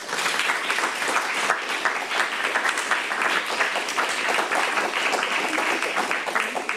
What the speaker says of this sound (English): I would like to ask you one last time to applaud for our guest speaker